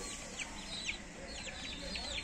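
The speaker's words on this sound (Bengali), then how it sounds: "আমার আম্মার মুরগির বাচ্চা, মুরগি" A multicoloured hen and her chicks cluck and peep together nearby, with repeated short chirps and low clucks in a continuous farmyard chatter.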